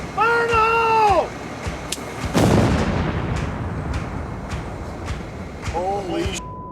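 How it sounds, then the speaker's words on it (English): A bomb squad's C4 charge, packed with bullets and grenades, detonates in Baghdad, Iraq, as one loud, deep boom that rolls into a long fading rumble, with voices shouting just before and after. "The bomb squad has set the C4, and they put a bunch of bullets and crazy grenades and all kinds of stuff, so we're gonna see a big explosion"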